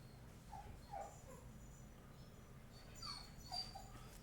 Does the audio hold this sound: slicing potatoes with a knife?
no